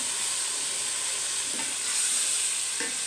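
Crushed frozen tomatoes frying for dhaba-style dal, a constant hissing sizzle with a couple of brief spoon stirs, no talking.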